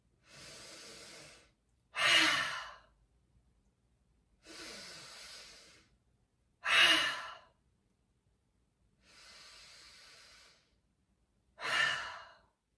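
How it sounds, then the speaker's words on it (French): Three slow breath cycles during a yoga routine: a soft inhale through the nose followed by a stronger, louder exhale through the mouth, each separated by silence, close and quiet. "On prend 3 inspires par le nez et 3 expires par la bouche."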